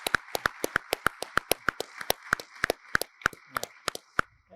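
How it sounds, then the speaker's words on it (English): Audience applause at a Sea-Air-Space 2022 luncheon honoring a chaplain's career of service, a steady run of crisp, evenly spaced claps close to the listener, with no voices over it. "a nice round of applause for Chaplain Scott and his career of service"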